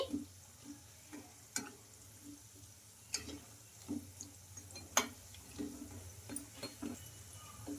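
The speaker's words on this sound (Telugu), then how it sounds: "అటు ఇటు తిప్పుకుంటూ గోల్డెన్ కలర్ వచ్చే వరకు అయితే ఫ్రై చేసుకోవాలండి" Sago and moong dal fritters fry in hot oil with a faint, steady sizzle, broken every second or two by light taps and scrapes as they are turned. No voices.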